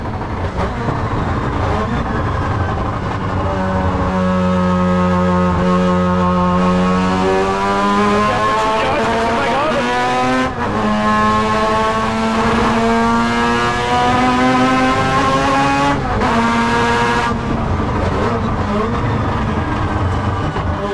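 Mazda rotary-engine prototype race car lapping a track, its loud high-pitched engine note climbing steadily through the gears with brief dips at each upshift, close and continuous throughout.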